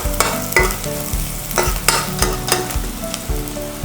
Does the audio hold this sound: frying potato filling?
yes